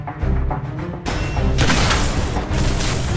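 A torpedo gun projectile from the video game Fracture detonates underground: a deep boom kicks in after a short lead-in, followed by a dense, loud rumbling blast with debris-like crackle that stays heavy to the end.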